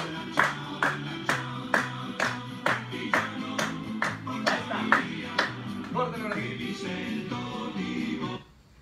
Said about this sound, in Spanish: Aplausos, ¿eh?